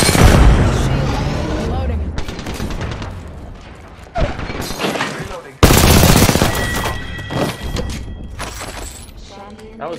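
Grenade blast and rapid gunfire in the battle-royale game Apex Legends, with sharp booms and bursts of automatic shots in close, loud clusters, one heavy explosion standing out midway.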